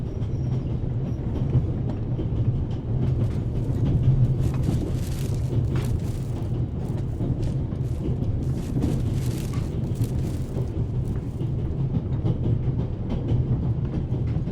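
Steady low rumble and rattle from inside a moving train carriage, continuous and fairly loud throughout with no talking.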